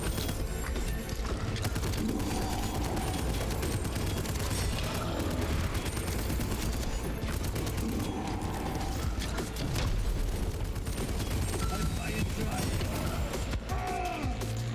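An enemy unleashes a barrage of gunfire in a video game, rapid mechanical rattling shots and clattering bursts in a dense continuous stream, loud and close, with a player's voice talking over it.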